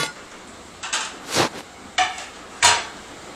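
Covers lifted off English muffins rising in a non-stick pan, heard as four separate clattering knocks and scrapes of lids and cookware, close and isolated over a quiet background.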